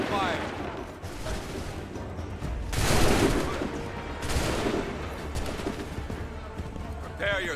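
Musket volley gunfire in the Assassin's Creed 3 video game, two broad crackling bursts of massed shots, loud and close, with voices speaking around them.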